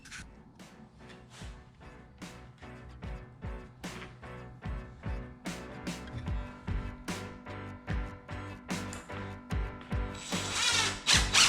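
A power drill drives screws into old pallet wood around the perimeter of a router jig for a cutting board, in a run of short, close whirring bursts that grow louder and more frequent toward the end.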